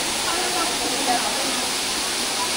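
A steady, loud rush of falling water at Lubong-Nangoloan (Anghalo) Falls in San Felipe, Zambales, fills the air with broadband hiss, continuous and unbroken throughout.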